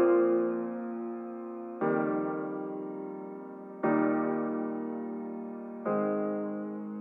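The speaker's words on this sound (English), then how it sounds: "So this song starts out with these pianos and they sound like this." Pianos play the opening of a song, treated with effects including a retro-style processor: four soft sustained chords, each struck and slowly decaying, spaced about two seconds apart, with no other sound.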